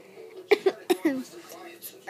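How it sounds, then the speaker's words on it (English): A single person's cough, close and fairly loud, breaking out as a few sharp bursts in quick succession amid a quiet indoor room, with some voiced throat noise around it. "I just had a random cough."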